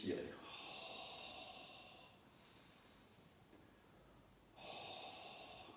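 A person breathing slowly during a Pilates exercise: a long airy inhale, a quieter pause, then another breath starting, close and clear, with no speech.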